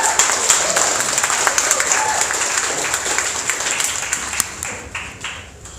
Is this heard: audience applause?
yes